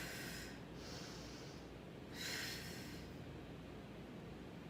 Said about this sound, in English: Me just breathing